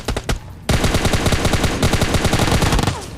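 Automatic gunfire in a battle royale shooter: a rapid, loud burst of shots after a few isolated cracks, sustained for several seconds before cutting off.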